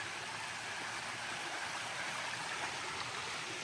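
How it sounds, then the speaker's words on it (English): A creek flows steadily beside an overland truck campsite, a soft, even rush of water with no breaks, faint and continuous. "Look at that beautiful creek you got"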